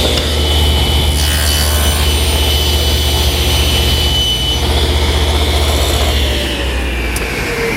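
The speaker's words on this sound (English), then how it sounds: "2 passes through the saw will take care of that" A table saw cutting a groove through poplar wood, a loud, steady, continuous rasping whine with a low motor hum underneath that eases slightly near the end, close and without talk.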